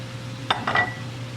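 Onion slices being broken apart and stirred in a pot for French onion and potato soup, giving a couple of brief utensil clinks and scrapes over a low steady background hum, with no talking.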